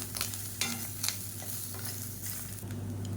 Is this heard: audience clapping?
no